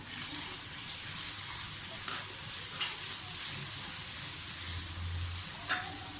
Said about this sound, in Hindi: लहसुन अदरक का पेस्ट डाल दें।